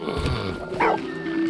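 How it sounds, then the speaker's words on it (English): Arvin, a dog in the video game Valiant Hearts, lets out a single short bark partway through, set against a steady hum of game ambience and music. "Hey, Arvin, stop barking."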